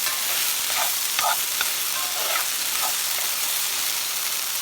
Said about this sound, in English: My 2 cloves of garlic and my onion in there. Alright, and let this saute down.